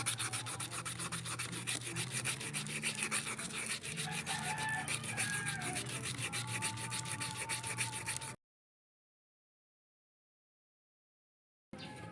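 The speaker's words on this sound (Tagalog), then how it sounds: "At titirahin natin ito sa magaspang na liha para mabilis." Coarse sandpaper scrapes back and forth on a bent gearbox part in a continuous gritty rasp, close and even, then stops for a few seconds of silence and briefly resumes.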